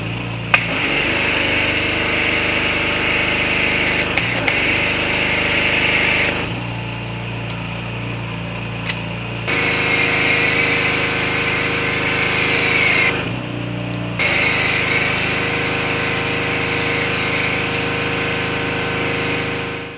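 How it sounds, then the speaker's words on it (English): A gas-powered pressure washer engine runs steadily and loud throughout, with a buzzing, harmonic-rich drone and a few brief dips in pitch and load, joined by sharp clicks near the start. "This electric pressure washer does not put out enough pressure. I'm going to grab the gas one."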